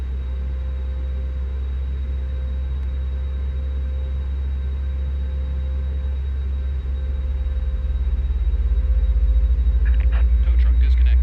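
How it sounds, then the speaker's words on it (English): An Airbus A330-900 engine starts in Microsoft Flight Simulator 2020, a steady deep rumble that builds in loudness toward the end, with a few faint clicks at the close. "This is my first engine start on the 330-900."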